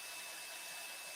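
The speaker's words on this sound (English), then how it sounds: "with the heat gun there just to melt that powder in" A heat gun blows steadily close by, melting embossing powder on a small craft tag, a continuous airy hiss with no break and no talking.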